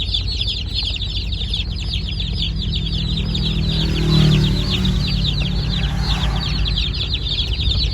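A flock of two-month-old laying ducks quacking in a rapid, continuous chatter, loud and close, over a low background rumble, below the Srinagarind Dam.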